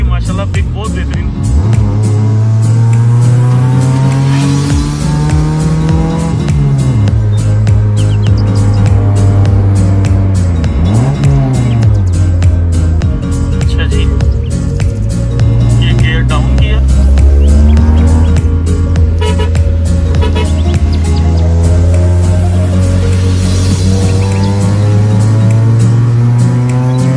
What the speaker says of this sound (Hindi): अभी आप एग्जॉस्ट सुन रहे थे